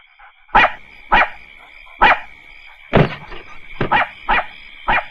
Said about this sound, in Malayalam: ലില്ലിക്കുട്ടി വല്ലാതെ കിടന്ന് കുരയ്ക്കുന്നു.